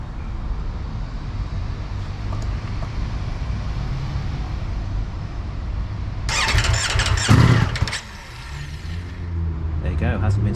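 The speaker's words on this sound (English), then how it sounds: "I'll start it up, but this thing is amazing. It's still got the standard exhausts." A Ducati V4S motorcycle with standard exhausts, unstarted for four weeks, cranks and fires into a sharp burst of revs over steady background noise, then drops back and tries again; someone talks before it starts.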